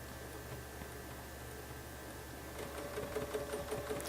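A sewing machine quilts arcs along a Baptist fan template, its faint steady mechanical hum and light ticking running alone throughout and growing slightly busier toward the end.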